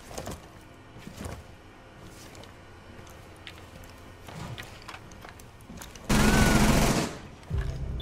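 Burst of rapid gunfire in the tactical shooter Rainbow Six Siege, a loud, dense volley about a second long that stands out above quieter game noise and scattered shots.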